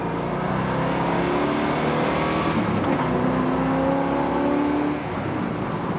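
A 1971 Chevelle convertible with a big block engine drives along with a steady, loud engine drone and rising tonal whine under the motion, constant throughout with no talking.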